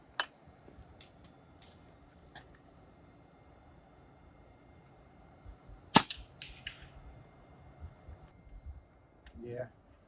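A single sharp report from an Edgun Leshiy 2 air rifle fitted with a shroud kit cracks out close by mid-clip, set among a few lighter clicks and handling noises.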